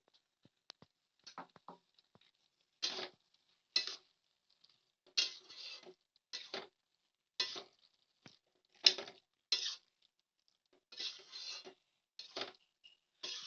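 A spoon or spatula scrapes and clinks in a pan of poppy seed paste with fried prawns and bottle gourd stems, in short separate strokes with quiet gaps between them.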